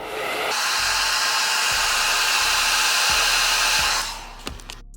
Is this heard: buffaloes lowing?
no